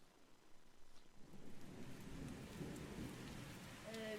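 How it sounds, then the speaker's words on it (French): A thunderstorm recorded outdoors in a field: rain patters steadily while low thunder rumbles and builds in the middle, the whole scene soft and distant. "l'orage a fait son bruit"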